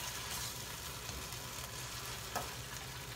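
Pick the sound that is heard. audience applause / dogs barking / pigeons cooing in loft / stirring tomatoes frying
stirring tomatoes frying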